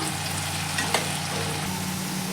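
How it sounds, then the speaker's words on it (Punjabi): Potatoes frying in oil in a pan over a full gas flame, a dense continuous sizzle with a faint stirring scrape partway through, close and steady, no voices. "ਪੂਰੇ ਫੁੱਲ ਗੈਸ ਦੇ ਉੱਤੇ ਇਹਨੂੰ ਮੈਂ ਆਲੂਆਂ ਨੂੰ ਮੈਂ 3 ਮਿੰਟ ਤੱਕ ਫਰਾਈ ਕੀਤਾ ਏ"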